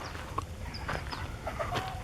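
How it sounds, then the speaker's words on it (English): Chickens and roosters clucking and chirping in short bursts over a low, steady outdoor rumble, with a few brief bird calls scattered through. "chickens and roosters and some rabbits"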